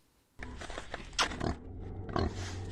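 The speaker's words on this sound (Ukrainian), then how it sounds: "Це два кнура маленькі." Pigs grunt and snuffle in pens on a crowded underground pig farm, a cluster of low rough grunts and snorts starting abruptly, close by and fairly quiet against background farm noise.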